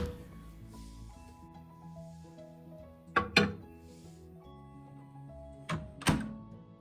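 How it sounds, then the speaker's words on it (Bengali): A bowl of besan dhokla batter set into a microwave oven, two pairs of sharp hard thunks and clunks from the bowl and oven door against a quiet hum, no talking. "এখন বাটিটিকে আমি মাইক্রোওয়েভ ওভেনে দিয়ে দিচ্ছি।"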